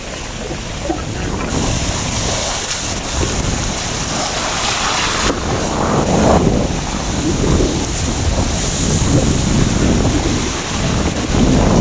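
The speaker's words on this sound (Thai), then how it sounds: "อาจจะสั่นเลยนะคะเพราะว่าลมแรง" Strong wind roars across a rocky seashore covered in oysters, buffeting the microphone loudly and steadily while surf washes in beneath it.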